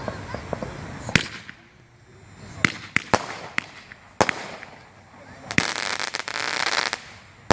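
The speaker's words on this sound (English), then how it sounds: "They got rapid fire Roman candles." Rapid-fire Roman candle fireworks go off outdoors in a string of sharp, loud cracking bursts at irregular intervals. A dense crackling stretch follows near the end, with some background voices in between.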